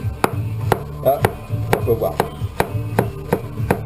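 Knife chopping celery hearts on a cutting board for couscous, sharp regular thuds roughly every half second, close and loud, with a brief spoken remark in between.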